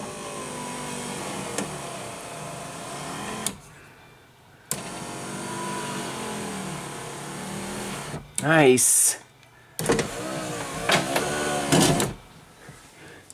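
A 1990s Silhouette minivan's power window motor grinds and whirs as the glass rises, sounding a little rough in two main runs with short pauses and clunks, while someone speaks briefly nearby.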